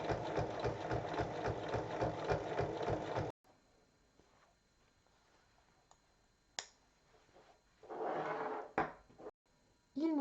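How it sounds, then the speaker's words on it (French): A sewing machine topstitches around the opening of a bag with fast, rhythmic stitching for about three seconds, then stops. Quiet handling clicks and a soft rustle of fabric follow. "Et pour refermer l'ouverture qui est sur le devant, on va faire une surpiqûre tout autour."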